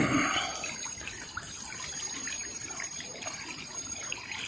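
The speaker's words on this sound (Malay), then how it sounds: "Inilah keadaan air paip masyarakat Kampung Iboy." Muddy, earth-laden tap water in a Malaysian village running steadily from a faucet, a continuous close gushing splash with no voices.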